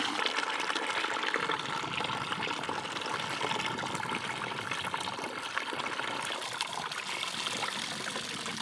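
Water flows steadily through a 3/8 inch U siphon pipe, a continuous close trickling and gurgling stream with no voices.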